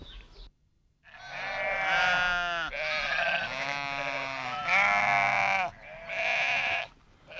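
A flock of mountain sheep bleats loudly and close, several overlapping wavering calls following one another in steady bursts, with goats kept in the same herd.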